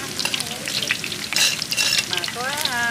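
Battered linh fish fries in a non-stick pan, crackling and spitting with dense, uneven sizzle bursts and brief stirring scrapes, close up, with a faint voice rising near the end.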